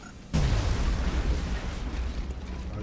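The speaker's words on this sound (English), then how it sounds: "Grenade out." A grenade goes off in the tactical strategy game Long War for XCOM, a single loud deep blast that breaks out of quiet and lingers as a rumbling, crackling roar.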